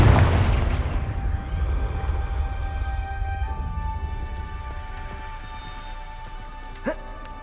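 A Confringo spell explosion in Hogwarts Legacy opens with a heavy, loud boom that rumbles and decays slowly into a faint tail, followed by a brief sharp pop near the end.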